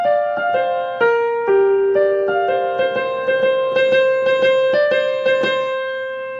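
Solo piano playing a song, a clear close-up melody over repeated chords, notes struck in a steady flowing rhythm with sustained ringing tones and no talking.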